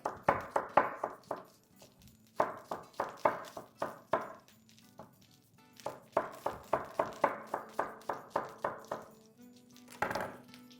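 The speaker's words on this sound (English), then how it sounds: "Chopping a shallot." A knife chops a shallot on a board in rapid, rhythmic bursts of crisp taps, with short pauses between the runs of strokes.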